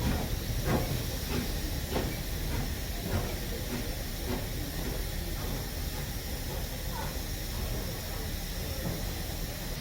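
A 9F steam locomotive reversing out of a station on the Great Central Railway during a winter steam gala: continuous loud steam hiss with soft, regularly spaced chuffs fading into a broad, steady rush.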